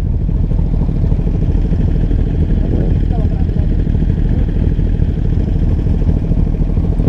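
A Kawasaki Ninja 400 motorcycle engine runs steadily on a touring ride, a loud, continuous low rumble mixed with constant wind roar, without a break.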